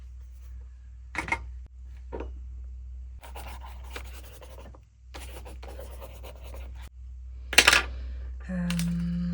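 Pen scratching across paper in short bursts of handwriting, close and fairly quiet, with pauses between strokes over a steady low hum.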